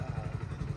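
An off-roading motorcycle engine gives a steady, pulsing low rumble with some clatter, loud and close throughout.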